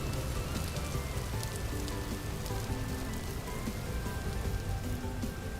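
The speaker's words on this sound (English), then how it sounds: "All right, the rain is stopping" Rain in the video game Vintage Story, a steady dense patter on surfaces that continues evenly throughout, with faint tonal sounds beneath it.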